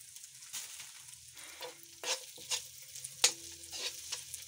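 Finely chopped green chillies stir-fried over low heat for a chicken samosa filling, giving a soft, quiet sizzle broken by several distinct spatula scrapes and taps, close by.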